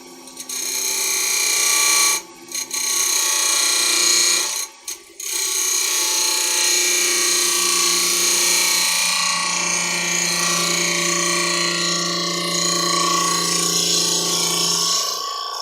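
A wood lathe turns a workpiece while the tool makes a smooth finishing pass, giving a sustained mechanical whir and scraping tone. Two brief pauses break it early on before it runs on steadily.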